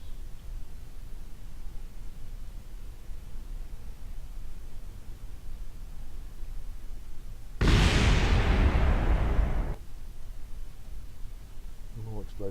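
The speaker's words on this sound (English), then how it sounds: "More explosions." Explosion in the Kerbal Space Program video game, a loud, dense two-second burst of noise rising sharply out of a steady background hiss, then cutting off, with a small second pop near the end.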